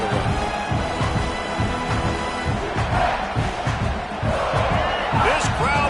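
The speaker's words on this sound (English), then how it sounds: "This crowd bringing the energy and noise early." A college football video game stadium crowd roars in a steady, loud wash of cheering and chanting, with rhythmic thumps running through the noise.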